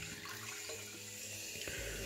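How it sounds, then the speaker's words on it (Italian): Hot tap water runs into a shaving bowl, a steady close stream with small shifts in tone as the flow changes, and a low thump near the end. "ci andate a mettere sopra l'acqua calda, non serve che sia bollente"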